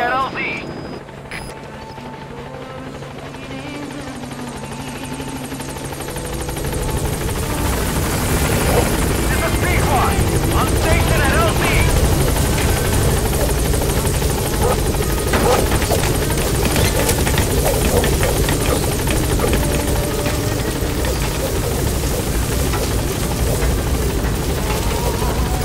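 The Pequod helicopter in Metal Gear Solid V comes in to a landing zone, its rotor roar swelling from a quieter start into a loud, steady, dense drone that fills the rest of the stretch, with voices speaking over it.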